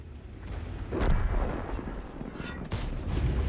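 Heavy tank-destroyer cannon fire in World of Tanks, with the T28 in play: two booming shots about a second and a half apart, each followed by a rumbling roll that fills the short stretch.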